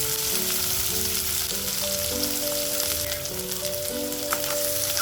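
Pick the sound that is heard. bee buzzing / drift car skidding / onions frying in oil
onions frying in oil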